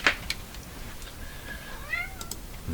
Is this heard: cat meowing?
yes